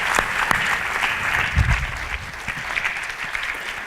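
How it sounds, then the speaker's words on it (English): Audience applause at a Hawaii state policy conference keynote, a sustained dense clapping wash with a few louder individual claps and a low thump partway through, continuing steadily throughout. "Let's give her a round of applause."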